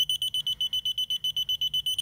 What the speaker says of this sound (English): hot glue gun is turned on, so we have voltage in this wire, so it's beeping